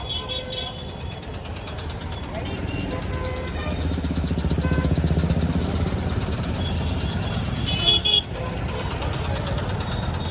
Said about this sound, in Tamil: ஷேர் ஆட்டோக்கள் ஆட்டோக்கள் வந்து எக்கச்சக்கங்க